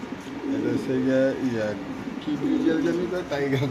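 Caged pigeons at a pigeon farm give low, rounded coos in repeated phrases, close and clear, while someone talks over them throughout.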